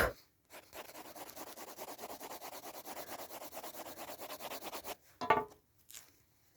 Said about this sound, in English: I'm going to put some more graphite down here.